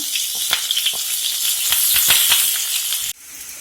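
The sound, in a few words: onion, green chili and curry leaves frying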